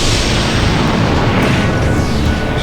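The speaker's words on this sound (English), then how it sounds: "He's just using the cannon." A cannon blast in The Legend of Dragoon game, a loud sustained booming roar that fills the clip with dense low rumble and a slowly fading tail.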